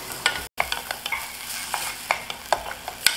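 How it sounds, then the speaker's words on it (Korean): Onions stir-fried in a pan after garlic, over low heat, for a minestrone sauce: repeated close scraping strokes of a utensil over a steady soft sizzle, with no talking. "양파 투명하게 볶아주시고"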